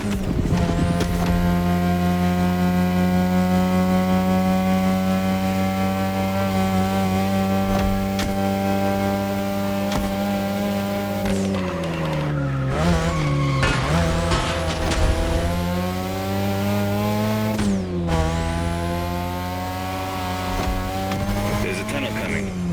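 Mazda RX-7 rotary engine in The Crew Motorfest racing game, revving loud and sustained at high pitch, dropping sharply mid-run as if lifting off, then climbing again through the gears.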